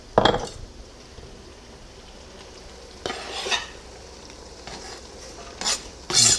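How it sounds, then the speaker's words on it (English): Bacon and ground beef with garlic fry in a pan as onions go in, bringing short bursts of stirring and scraping with a low steady sizzle between them, close by with no talking. "And I'm gonna go ahead and add the onions as well."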